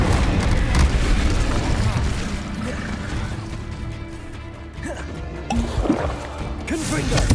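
An Incendio fire spell is cast in Hogwarts Legacy amid combat: a continuous loud whooshing, roaring burst with low rumbling, swelling again near the end, with voices mixed in underneath.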